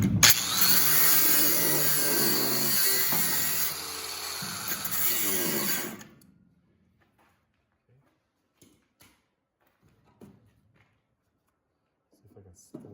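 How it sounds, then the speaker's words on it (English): A power tool cuts into a seized nut on a 1958 Volkswagen bus during restoration, a loud close grinding whine that steps down partway and stops after about six seconds, leaving near silence with small clicks and handling sounds. "Okay, I'll just do a little bit more cutting"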